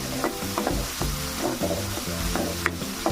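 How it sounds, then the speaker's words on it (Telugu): Raw canal prawns fry in hot oil, giving a steady close sizzle broken by repeated scraping stirs and clanks of the utensil against the pan at an uneven rhythm. "ఇలా వేపుకుంటే ఈ పచ్చి రొయ్యల్లో ఉండే టేస్ట్ అంతా ఆయిల్లో దిగుతుందండి"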